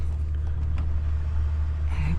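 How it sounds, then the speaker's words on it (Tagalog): Cars passing on a road beside a stopped vehicle with a flat tire, a steady low engine and tire rumble running throughout, fairly close, with a faint rise near the end. "may mga dumaraang sasakyan ito"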